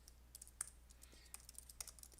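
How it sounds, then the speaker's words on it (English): Faint keystrokes on a computer keyboard while writing R code, irregular light clicks in short bursts with a few sharper taps, quiet and close, no talk. "So this one I'll be typing myself."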